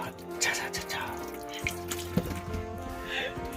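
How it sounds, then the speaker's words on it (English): Hot water runs steadily from a caravan bathroom tap, a continuous hissing splash close by, with voices talking over it and a few brief knocks. "And we've got hot water in the bathroom tap as well."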